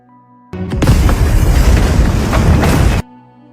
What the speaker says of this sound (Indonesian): Arjun kemudian mengambil detonator Anan dan meledakkan gedung channel berita Ankita